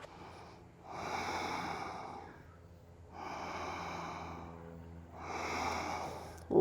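Deep, slow yoga breathing close up, three long audible nasal breaths with quiet gaps between them, soft and even, no speech.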